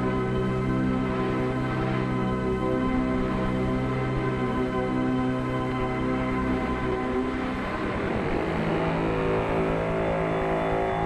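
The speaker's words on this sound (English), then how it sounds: "As she accelerated out of the pits and onto the racetrack, Lyn was all alone." Race car accelerating out of the pits onto a racetrack, a steady loud engine drone with layered harmonics throughout, rising and roughening toward the end.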